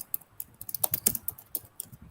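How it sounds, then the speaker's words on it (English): A full sentence typed on a computer keyboard: quick, irregular runs of close, crisp key clicks in a short burst, with no voices. "you type in a full sentence."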